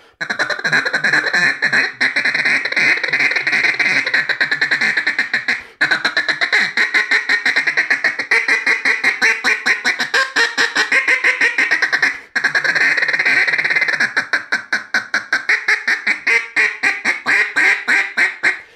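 Hand-blown duck calls mimic a whole flock of ducks on the water, sending out loud, rapid, nasal quacking runs in long strings broken by a few brief pauses, close and unaccompanied.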